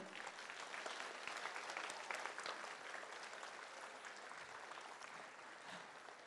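Applause for the teachers fills a school annual day event, a steady, crowded rattle of many hands clapping throughout, heard alone without speech.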